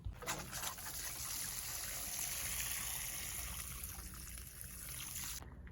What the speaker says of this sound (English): now I'm going to water it really well